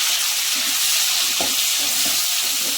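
A steady, close sizzle of frying in a pan while pongal is cooked, with soft scraping or stirring touches under a continuous hiss.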